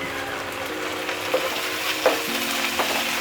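Curry leaves and ginger-garlic paste fry in a hot pan for restaurant-style spicy chicken kondattam, making a steady close sizzle with a few louder pops and stirring scrapes, and no one speaks.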